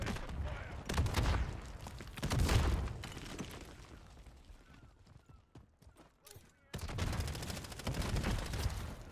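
Bursts of gunfire in the Call of Duty MW3 video game: loud clusters of shots, a lull of quieter background action, then another sustained burst near the end, with game voices heard faintly in between.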